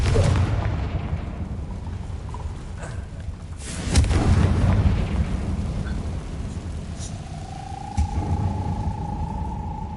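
A fiery blast spell bursts in a castle setting within a video game, a heavy booming explosion around the middle followed by a rumbling tail and another thump later, with a rising whine near the end.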